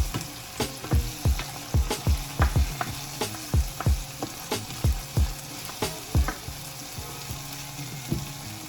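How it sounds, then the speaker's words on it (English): Irregular sharp clacks and scrapes of a utensil stirring fish and curry in a pan, over a steady background sizzle. "I'm just letting this saute for 2 minutes."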